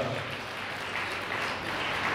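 Audience applause at an awards ceremony held by the Kyrgyz Tuusu newspaper publishing house honouring leading women, a dense, steady wash of many hands clapping throughout.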